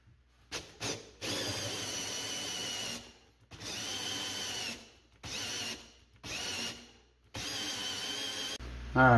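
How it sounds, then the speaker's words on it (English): A power drill runs a 2-inch hole saw into wood, with a 2x4 backing the board to stop it cutting all the way through. The motor whines loudly in four long bursts separated by short pauses, and it ends with a brief squeal. "I'm gonna use a 2-inch hole saw."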